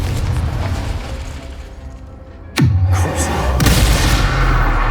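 A sudden booming blast from the Confringo fire spell in Hogwarts Legacy, a single explosive hit midway followed by a sustained roar of fire and debris over low game ambience.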